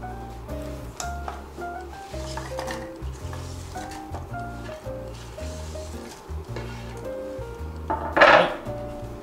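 Peeled apple pieces are dropped into a pot on a kitchen scale in a run of soft knocks and clinks at close range, ending in a louder clatter near the end.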